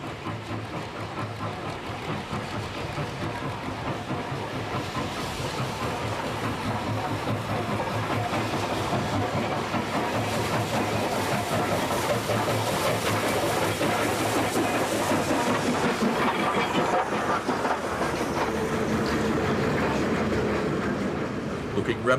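A China Rail JS steam locomotive hauls a passenger train. A continuous loud rumble of rolling stock comes with a rapid clatter of wheels on rail, building slightly and holding steady throughout.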